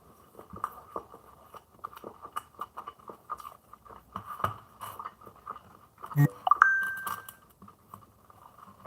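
Crunchy celery being chewed close to the mic during a live stream, with irregular crisp bites and chewing bursts across the clip, a few sharper clinks and crunches near the end, and no talking.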